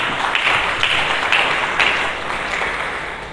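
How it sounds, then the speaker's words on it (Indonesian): A church congregation applauds during a Sunday service, a short burst of dense, steady clapping that tapers off slightly toward the end. "Berikan tepuk tangan dulu bagi Yesus."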